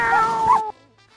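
A single short, clear cat meow, loud and close, quickly followed by faint quiet sounds.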